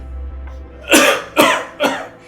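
Three sharp coughs in quick succession, close and loud, after a brief quiet low rumble.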